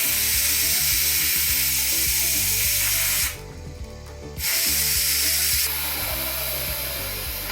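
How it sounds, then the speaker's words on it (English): A pressure cooker boiling marmalade fruit hisses steadily under pressure, a loud continuous broadband rush with a brief dip in the middle, over a low rhythmic rattling pulse. "I'm going to put a pressure cooker on."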